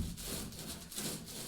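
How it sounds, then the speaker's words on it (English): Soft, repeated rubbing strokes of a paint roller spreading epoxy over plywood for a boat build, faint and close, in a slow back-and-forth rhythm. "you just want to be rolling it just like I am right here"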